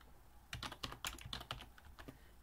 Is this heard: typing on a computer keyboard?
yes